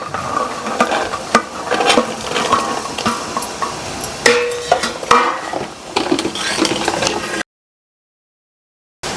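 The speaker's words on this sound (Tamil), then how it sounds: "இதை அப்படியே கலந்து விட்டுட்டு இந்த முழு காணையும் வந்து சேர்த்துட்றேன்" A spoon stirs sweet corn through a frying pan, giving scraping clinks and soft sizzling in uneven bursts. The sound stops abruptly near the end, and no one speaks.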